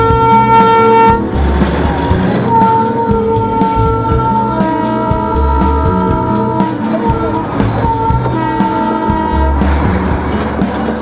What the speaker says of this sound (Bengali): টয় ট্রেন আসছে,